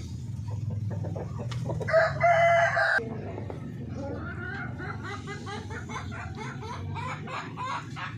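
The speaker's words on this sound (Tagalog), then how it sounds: "Yung ating rooster Splash Orpington, tsaka po yung ating mahahanap na hen na Buff Orpington." Splash Orpington rooster crowing over a steady background of flock clucking and chatter from Orpington chickens, with the crow loud and close for about a second before the low fowl murmur continues throughout.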